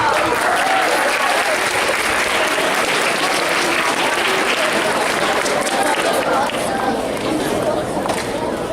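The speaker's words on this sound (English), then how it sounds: "Let's just give them one more round of applause." Loud, sustained applause from a large crowd at a school presentation, dense clapping filling the whole stretch with a steady roar and faint chatter underneath.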